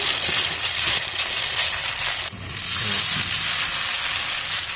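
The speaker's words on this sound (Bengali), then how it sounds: "এবার আমরা পিঠে ভাজবো তার জন্য কড়াইতে তেল দিয়ে" Radish and rice batter pancakes fry in oil on a flat tawa, giving a steady close sizzle across the whole stretch with a brief dip partway through as batter is added.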